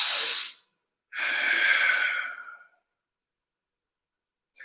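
Deep, slow breaths are drawn and released during a yoga twist pose, an inhale then a longer airy exhale, close and clear against silence.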